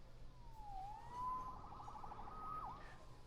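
Police siren wailing in Marvel's Spider-Man game, a rising and falling tone sweeping for several seconds at moderate distance over low game ambience, with no speech.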